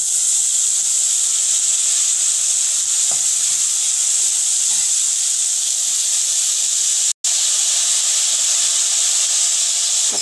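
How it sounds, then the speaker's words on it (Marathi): Cabbage with turmeric sautés in a hot pan, giving a loud, continuous sizzling hiss that runs unbroken except for one brief cut, with faint stirring scrapes underneath. "पत्ता कोबी छान आपण परतून घेऊया"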